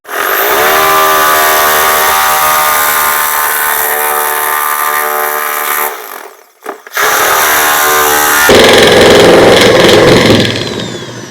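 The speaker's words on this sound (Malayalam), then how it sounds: "പ്ലൈവുഡ് കട്ട് ചെയ്ത് ഫെയിലാണ് സംഭവം" A small-bladed power cutting tool whines loudly and steadily through plywood, bogging down briefly midway before revving back up and grinding on harshly to the end.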